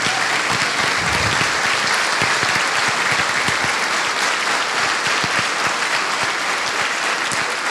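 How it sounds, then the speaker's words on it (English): Dinner crowd at a political Reagan Dinner applauding veterans, police and first responders, a loud, dense, sustained round of clapping filling the room with no talk over it. "let's give this group of people a big round of applause"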